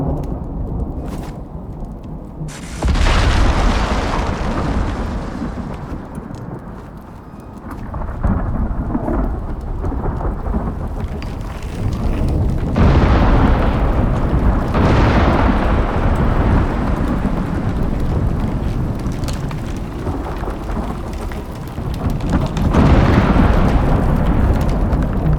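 Lightning storm in the survival game Icarus, with heavy rain pouring steadily and repeated deep thunder rumbles and cracks rolling loudly through the whole stretch, no voices.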